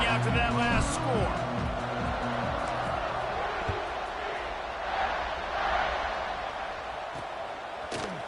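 Stadium crowd in a college football video game, Tulane Green Wave at UCF Knights, a steady buzzing roar after a touchdown, heard under a commentator talking.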